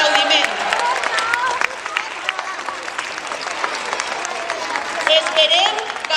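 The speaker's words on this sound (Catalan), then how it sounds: "Un fort aplaudiment." Children clap together in a school playground before a Tirisiti nativity puppet show, a dense, sustained burst of applause with excited voices and chatter mixed through it.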